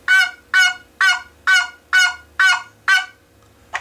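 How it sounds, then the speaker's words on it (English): Turkey box call played by scraping the angled lid toward the player across the box, giving a series of seven evenly spaced, loud raspy yelps, each roughly half a second apart, with a short faint note trailing at the end. "And that's a yelp on the box call."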